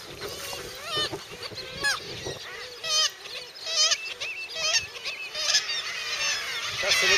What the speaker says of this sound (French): de pétrels fulmars et puis de mouettes tridactyles qui elles sont logées dans les falaises